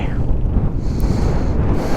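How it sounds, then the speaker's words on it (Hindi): Strong wind buffets the microphone in a steady, loud low roar, gusting throughout with no voices. "और हवा बहुत तेज़ है जी, बहुत तेज़ हवा है।"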